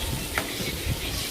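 Salt and chili powder sizzle and fry in hot oil as the spices are stirred for a ridge gourd and moong dal curry. There is a steady crackle with a couple of soft scraping stirs, close by.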